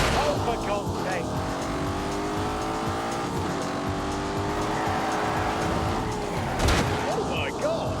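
Twin-turbo 4-litre V8 car making 510 horsepower, driven in The Grand Tour Game: a sustained engine drone with rising and falling pitch, brief tire squeal, and someone speaking over it.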